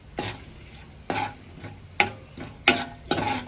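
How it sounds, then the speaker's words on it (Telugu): Cut dry fruits frying in hot ghee while being stirred, with about six distinct scraping strokes of the spoon against the pan over a soft, steady background sizzle. "కాగిన తర్వాత మనం ముందుగా కట్ చేసి పెట్టుకున్న డ్రై ఫ్రూట్స్ని కూడా వేసుకుని లైట్గా ఫ్రై"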